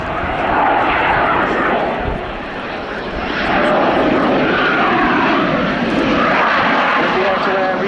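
Czech Air Force Saab 39 Gripen jet on a slow-speed display pass, a loud sustained broadband engine roar that swells and holds throughout, with people talking under it.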